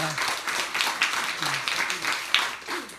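A church congregation applauding briefly at a 43rd-anniversary revival service, a short burst of scattered clapping mixed with voices and talk throughout.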